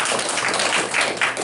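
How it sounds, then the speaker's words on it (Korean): A Korean church congregation applauds during a sermon, with a short, dense, steady burst of clapping from many hands that fills the room. "박수를 한번 하겠습니다."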